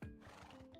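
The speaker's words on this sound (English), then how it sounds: "Now I get to ride this max speed horse everywhere I go." A horse in the video game Minecraft gives a single short, close whinny that starts sharply and fades within a second.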